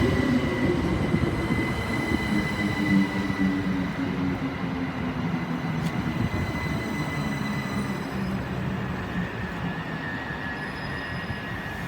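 A Class 377 electric train at Gatwick Airport rumbles past close by with a steady roar of wheels on rail, thin squealing tones and faint clicking of wheels over joints, and no voices.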